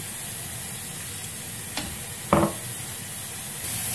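A glass of water poured into a hot, sizzling apricot tagine: a steady close hiss of frying, a brief crackle, then a short sharp burst as the water hits the pan before the sizzle carries on.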